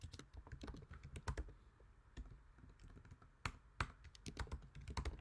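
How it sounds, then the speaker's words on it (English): Someone types an email address on a computer keyboard: irregular bursts of crisp key clicks, quick clusters with short pauses between, close and fairly quiet. "I'm gonna type in my other email here"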